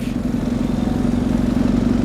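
A BMW R 1150 GS boxer-engine motorcycle running steadily, its engine giving a constant low drone with a throbbing rumble for about two seconds, near and loud, with no talk.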